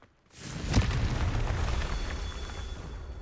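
A Confringo explosive spell bursts in Hogwarts Legacy, one sharp blast near the start that trails into a long, heavy, rumbling tail of debris and echo, loud and with no voice over it.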